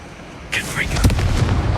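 A Confringo blasting spell in the Hogwarts Legacy video game bursts with a sudden broadband whoosh, then a loud boom and rumbling crackle that rolls on to the end, with a voice mixed in.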